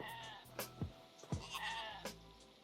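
Several sheep bleats in the video game Hytale, wavering calls arriving in a quick irregular series, fairly quiet and clear with no voices over them.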